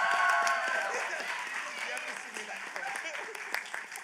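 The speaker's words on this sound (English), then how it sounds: "can I please have a round of applause for Queen Chrysalis?" A convention audience claps for Queen Chrysalis at a Cartoon Court panel at Everfree Northwest 2024, a moderate wash of applause that slowly thins out while a voice speaks over it.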